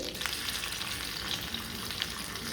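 Sardines frying in hot oil over curry leaves on a medium flame, a steady close crackling sizzle with dense spitting that runs evenly throughout, no voices.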